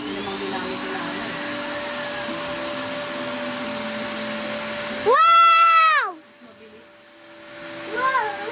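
A vacuum cleaner drones steadily while being used on an inflatable pool, then gives a brief high whining surge and cuts off, with voices faintly around it.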